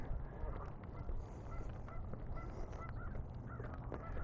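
Geese honking by a lake in a city park, several faint distant honks and calls spread through a steady outdoor background.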